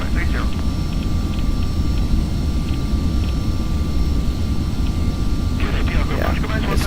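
An Embraer Phenom 300 business jet descends in a Carenado flight simulator, its steady, loud cockpit engine roar unbroken throughout, with faint voice-like sounds near the start and end.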